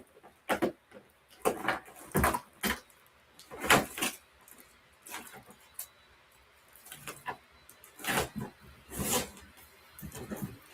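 A drawer in a craft room being opened and rummaged, giving a series of close wooden slides, knocks and rattles spread irregularly through the stretch with no talk.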